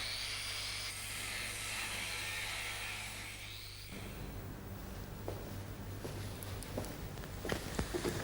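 An angle grinder fitted with a cutting disc slices through a car's front wing, giving a loud steady high whine for about four seconds, then stops, leaving quieter scraping and tapping.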